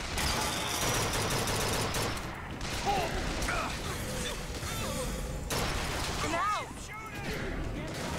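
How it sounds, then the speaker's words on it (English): Bursts of gunfire in the video game Bioshock Infinite, dense and rapid shots with mechanical clatter throughout, running under a player's voice. "Who else is shooting at me?"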